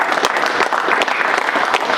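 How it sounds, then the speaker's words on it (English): Audience at a wrestling tournament press conference giving a round of applause, loud, dense clapping from a crowd sustained through the whole moment. "give a big round of applause for Mike"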